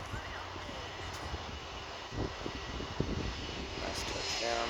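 A QantasLink Boeing 717 jet roars faintly in the distance on landing, a soft steady engine rumble with a few thumps and bumps, as a voice talks over it.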